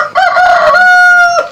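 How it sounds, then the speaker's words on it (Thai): A rooster crows once, loud and close, in a single drawn-out cock-a-doodle-doo lasting over a second, with nothing else heard. "อันนี้มันคือนะไก่แล้วก็นกยุง"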